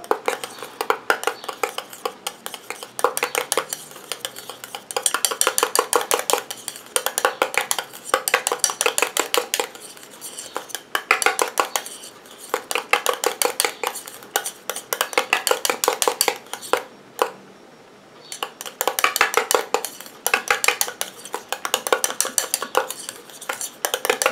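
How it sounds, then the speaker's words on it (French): A spoon or whisk clinks and scrapes steadily against a bowl while a soothing men's aftershave cream is mixed, a dense rhythmic run of close, fairly loud taps with one brief pause near the end and no talking. "alors je mélange de nouveau"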